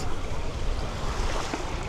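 Steady broadband wash of surf at the shoreline of Durrës beach, Albania, continuous and fairly close, with wind noise buffeting the microphone.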